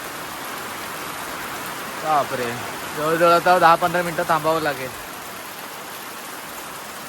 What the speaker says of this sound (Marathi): पाऊस बघा एकदम जोरात आलाय आवाज ऐकू शकता किती ताकदीचा पाऊस आहे तो